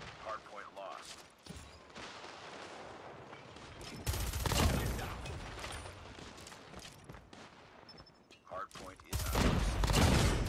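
Bursts of FFAR 1 gunfire in Call of Duty Mobile crackle in rapid volleys at moderate volume, with quieter stretches between the heavier bursts.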